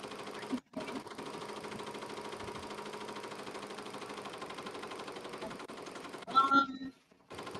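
A Ricoma Marquee 2001 embroidery machine stitching steadily at close range, a rapid even mechanical chatter that runs unbroken for several seconds, with a brief pause near the start and a short clunk of the machine stopping near the end.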